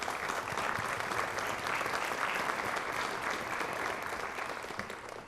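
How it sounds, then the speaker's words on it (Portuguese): Sustained applause from an audience at a formal municipal assembly session, dense steady clapping that fills the room and tapers slightly toward the end. "E para já pedir o vosso aplauso."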